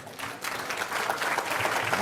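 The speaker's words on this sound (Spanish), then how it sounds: "a quien pido un fuerte aplauso" An audience at a public lecture breaks into steady applause for the speaker, a dense clapping that builds slightly and holds.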